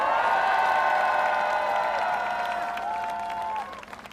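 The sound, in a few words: crowd applauding at political rally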